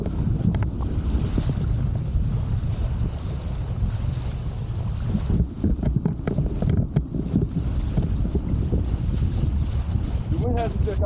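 Strong wind on open water during wing foiling with a Gong Superpower 7.5 wing, a loud, steady rushing buffet against the microphone with sloshing water underneath and a voice speaking briefly over it.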